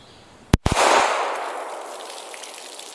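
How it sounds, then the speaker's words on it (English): A single loud, sharp 9mm hollowpoint shot from an auto-loading handgun cracks at close range, followed by a quick clatter and a long echoing decay. "9mm Hollowpoint from an auto-loading handgun."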